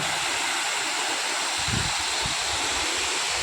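Water pours over Harkul Khurd dam in a steady, loud rushing wash, close and continuous, with a few low thumps underneath and no talking.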